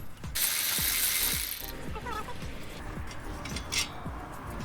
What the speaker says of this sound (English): All we're doing is setting up the ratchet with the jack.